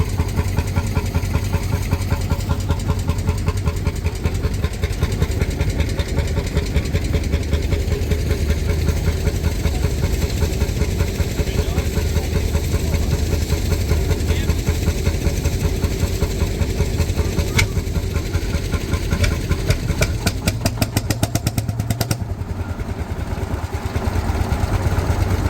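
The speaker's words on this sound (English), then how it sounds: "Nothing like a single cylinder to get you going in the morning." A single-cylinder Lanz Bulldog tractor engine idles loudly and close by, its fast, even knocking beat running on for the whole stretch.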